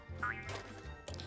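A toy duck in the Taskmaster VR game quacks when shaken, giving a short squeaky quack near the start and another brief one near the end over a steady game music backdrop.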